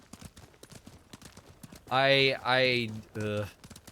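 A horse gallops in the video game Ghost of Tsushima, its rapid clip-clop hoofbeats running through the scene, joined midway by a loud, drawn-out voiced call.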